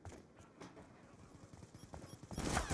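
Gunfire in Black Ops 2 multiplayer: a rapid burst of quiet shots in quick succession, fairly faint, with a louder blast near the end.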